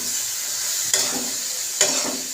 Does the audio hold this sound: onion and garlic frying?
yes